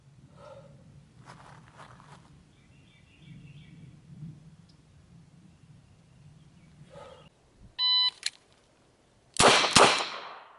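Revolver gunshots at a shooting drill, a sharp electronic timer beep followed moments later by a loud close shot or two after quiet shuffling.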